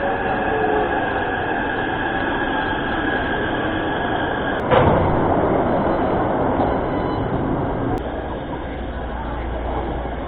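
Riding a Taipei metro train toward Gongguan, a steady rumbling roar of wheels and carriage fills the cabin, broken by a sudden clunk partway through and later a soft click over the continuous hum.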